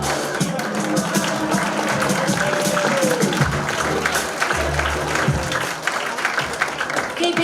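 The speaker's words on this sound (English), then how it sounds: "Keep that round of applause going" Audience applause for a comedian at a live standup comedy competition heat, sustained crowd clapping with a voice speaking over it throughout.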